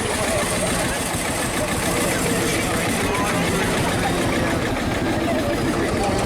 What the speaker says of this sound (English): Look at that, I love that tractor.